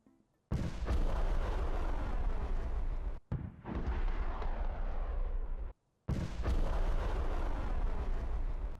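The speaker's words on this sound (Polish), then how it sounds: "im bliżej centrum mapy jesteś, tym głośniejszy będzie wystrzał" Three heavy weapon blasts in War Thunder, each a loud boom followed by a long rumbling decay, separated by brief pauses.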